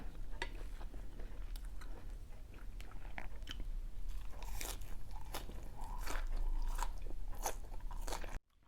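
Crunchy leaves eaten with Thai pork nam tok, chewed up close with continuous loud crisp crunching and biting throughout, with no talking.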